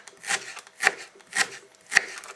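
Ginger being chopped with a knife on a wooden board, heard as three separate, fairly close cuts spaced evenly about half a second apart, with no talking.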